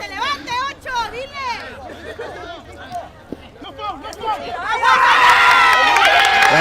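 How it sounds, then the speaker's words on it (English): Home crowd at a Justice University men's soccer match against Bethesda jeers and shouts, a loud mix of whistles, yells and babble that swells into a dense roar toward the end. "the Justice faithful letting the Bethesda team hear it here"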